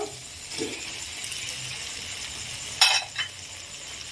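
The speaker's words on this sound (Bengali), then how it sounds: "মশলা কষা হয়ে গেছে, এবার আমি চিংড়ি মাছটা ঢেলে দেব।" A low, steady sizzle of cooked-down masala in a pan swells into a brief louder hiss and splash as prawns are poured in for a prawn masala gravy, then settles back to a quiet simmer.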